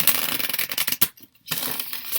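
Tarot cards shuffled by hand in two rustling bursts, a steady riffle for about a second, a brief pause, then another run of shuffling, close and fairly loud.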